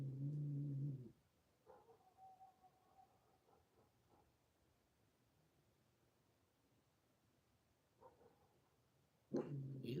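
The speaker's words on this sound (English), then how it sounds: "You guys hear that, coyote?" Faint, wavering calls of a coyote far off in the night, thin drawn-out tones rising out of near silence, with louder close-by low bursts at the start and end.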